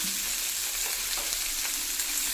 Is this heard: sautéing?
yes